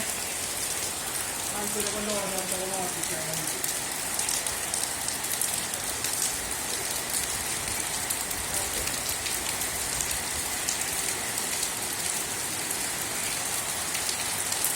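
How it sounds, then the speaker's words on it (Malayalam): Steady, dense rain patters on a surface throughout, a constant hiss with a brief faint tonal sound early on. "ഈ കൊല്ലെല്ലാം ഉണ്ടാവുള്ള മഴ"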